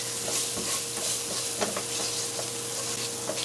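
Curry powder fries in a pot with a constant hissing sizzle, a spoon stirring through it in soft scrapes and light taps, close and steady with no voice.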